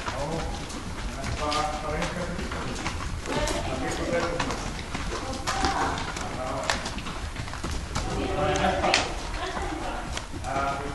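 Horse hooves clip-clop steadily through a riding lesson, the footfalls repeating over continuous talk from an instructor, with birds faintly cooing in the background.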